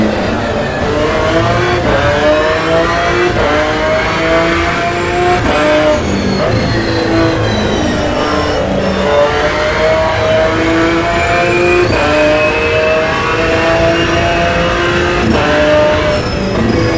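A race car in Assetto Corsa EVO drives the full Nordschleife, engine loud and constant, rising and dropping in pitch through repeated upshifts and downshifts, with faint tire noise under it.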